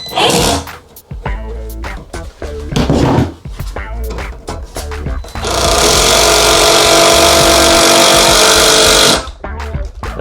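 A power tool cuts through a 2x4 piece of lumber in a loud, sustained burst lasting several seconds, preceded by shorter bursts of clattering and handling noise.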